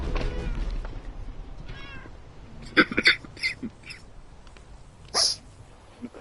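Several short meows from a cat in the Minecraft video game, a cluster of quick calls around the middle followed by one louder, sharper meow, each clear and alone over faint background noise.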